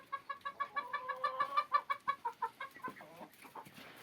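A rooster clucks in a quick, rhythmic run of about twenty short calls, close by and fairly quiet, trailing off into softer noises.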